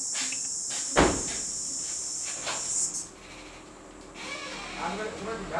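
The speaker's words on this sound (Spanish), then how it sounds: "Si es un grillo." Indoor cricket chirping as a thin, continuous high trill, faint beneath people talking in Spanish, with a sharp knock or thump partway through and movement noises.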